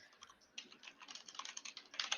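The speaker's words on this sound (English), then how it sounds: "is furiously typing" Rapid, continuous typing on a computer keyboard, a dense run of close, crisp key clicks that grows louder and busier toward the end, with no voices.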